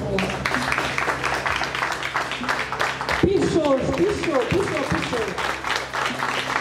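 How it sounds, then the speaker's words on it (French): Audience at a graduation ceremony in Cap-Haïtien applauding the singers, a continuous clapping wash that runs under a speaker's voice, with a brief remark spoken partway through. "S'il vous plaît, applaudissez les voix."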